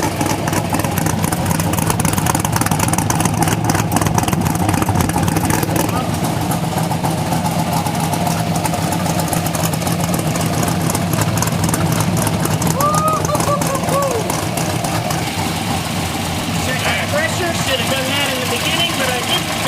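A supercharged LS3 V8 in a 1967 Chevrolet Nova idles loudly through straight-through Flowmaster exhausts on its first start, a steady, rough, throbbing rumble with some talk over it.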